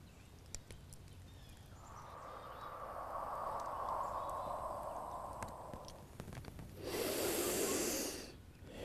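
Forceful yoga breaths for an activating breathing exercise: one long, strong breath held for several seconds, a short gap, then a second louder, rushing burst near the end, close and clear with no talking.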